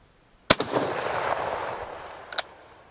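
A Mauser rifle firing a .303 British round at a steel target: one sharp, loud report followed by a rolling echo that fades away, then a fainter second crack about two seconds later.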